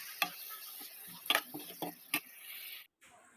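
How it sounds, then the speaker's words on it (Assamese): Potatoes with salt and turmeric in hot oil being stirred, with a steady hiss broken by a few sharp spatula scrapes and knocks against the pan, then a brief drop to silence. "নিমখ হালধি দি এইখিনি এতিয়া অলপ লৰাই দিম"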